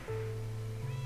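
A Minecraft cat lets out one long, steady, drawn-out meow that ends in a short upward shift, faint and alone.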